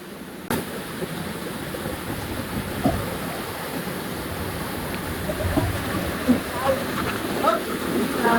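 Steady broadband rush of water at Binayoyo Falls, a seasonal waterfall that flows in the rainy season, heard from its second tier as a continuous near roar with a few brief knocks and splashes.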